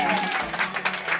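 Party guests at a children's birthday celebration clap in a steady round of applause, dense and close, with voices mixed into the crowd noise.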